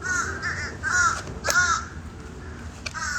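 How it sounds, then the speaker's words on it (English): Several crows caw repeatedly nearby, in harsh, clear calls that come in short bursts over a low outdoor background. "A murder of crows."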